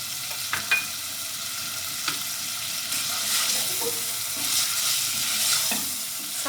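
Steady sizzling of boneless chicken frying in a pan with crushed red chilli, with occasional scraping clicks of a spoon stirring, no voices.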